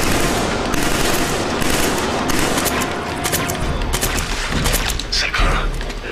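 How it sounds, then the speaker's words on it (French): Heavy, continuous gunfire from the Killzone 3 video game, rapid automatic bursts and booms stacked densely and loudly throughout, with no break in the shooting. "mais qui nous tire dessus?"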